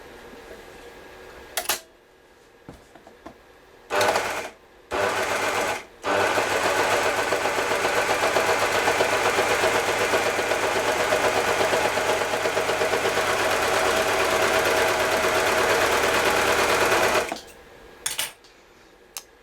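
A domestic sewing machine set to a wide, long zigzag stitch runs a fabric sample in one long, steady mechanical whir, preceded and followed by short bursts of stitching.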